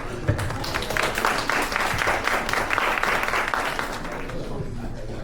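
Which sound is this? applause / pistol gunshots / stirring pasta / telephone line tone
applause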